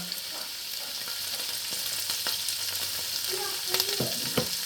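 Onions sautéing with salt in a pot for beef stew, a steady sizzling hiss with occasional clicks of stirring, close and continuous, no talking.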